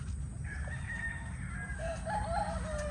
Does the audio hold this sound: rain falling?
no